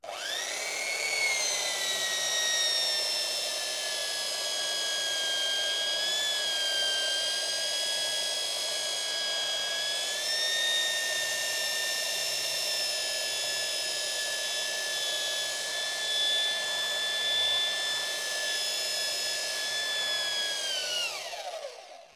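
A Parkside PBS900C3 belt sander running at its highest speed sands wood with a loud, continuous high-pitched motor whine and belt hiss. It holds steady and close for over twenty seconds before winding down at the end.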